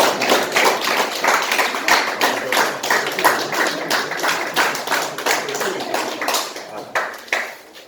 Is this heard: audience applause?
yes